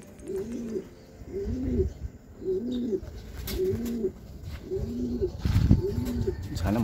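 Pigeons coo in a steady repeating rhythm, six low throaty calls close by, with faint background noise.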